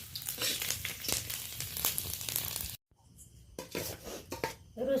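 Large garlic cloves stirred in a frying pan after chillies were fried, with metal utensil clatter and scraping over a light sizzle, a brief silent gap, then more clinking and stirring.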